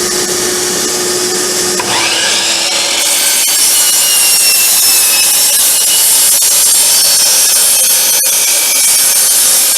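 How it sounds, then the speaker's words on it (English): A power saw cuts a curve through wood while building a computer desk hutch, a loud, steady, close whine that holds unbroken for about ten seconds, with no talk. "Not only will it cut a longer curve, it has that dark kerf line where I can make very accurate cuts."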